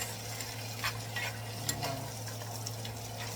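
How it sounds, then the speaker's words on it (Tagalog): Bacon, onion and tomato sautéing steadily in a pan as frozen ingredients are added, with a low hum underneath and a few soft sizzling bursts and stirring scrapes. "Ilalagay natin dito sa ating ginisang bacon at sibuyas at kamatis."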